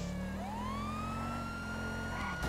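A police car siren in Grand Theft Auto V wails loudly and close, one long rising sweep that holds high, then drops away at the end, with no talk over it.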